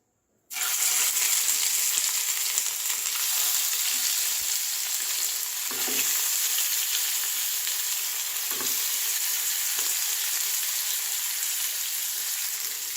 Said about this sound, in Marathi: इथे आपलं तेल गरम झालेलं आहे आता याच्यात आपण एक एक कारले सोडून घेणार आहे